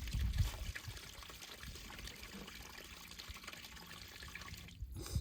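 Cold water runs steadily from a tap while green vegetables are washed, a continuous close splashing wash with a heavier gush at the start and a brief dip near the end.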